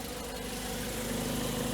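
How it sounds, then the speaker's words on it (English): A 2008–2011 Ford Focus with an automatic transmission idles with its engine running after a solenoid replacement, producing a steady low hum at moderate volume with no talk. "Pretty typical Ford Focus engine roll."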